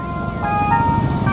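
A tinny ice cream vendor jingle plays steadily at a moderate distance, with traffic rumbling underneath.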